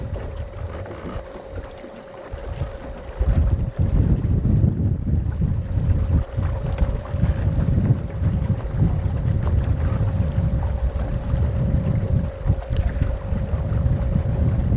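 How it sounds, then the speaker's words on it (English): Strong, hard wind buffets the microphone aboard a fishing boat, a loud continuous roar with water chop and a steady motor tone underneath, gusting louder after the first few seconds. "I'm gonna get out of this real hard wind."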